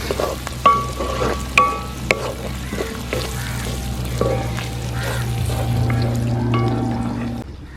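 Sliced onions and coconut pieces fry in hot oil for a shrimp dry fry, sizzling steadily up close while a spoon scrapes and clinks against the pan several times.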